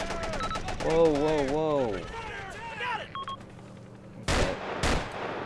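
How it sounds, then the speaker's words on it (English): AK rifle fire in the ARMA military shooter: two loud, sharp shots near the end, preceded by a voice and game sounds. "Yeah, I hear an AK right there."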